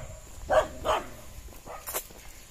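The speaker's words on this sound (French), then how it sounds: "Donc là, c'est une femelle chien." A female dog in Indonesia barks two sharp, close barks in quick succession, followed by softer grumbling and a final shorter yelp.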